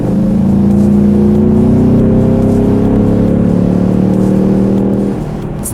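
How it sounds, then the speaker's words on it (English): A 2016 Ford Mustang EcoBoost accelerating from mid-speed, its engine droning loudly and steadily with a rising pitch for about five seconds, then easing off near the end. "Let's do a quick little acceleration."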